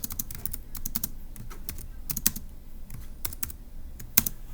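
Rapid, uneven keystrokes on a computer keyboard, close and moderately loud, with clusters of sharp clicks and brief pauses between bursts, no voices.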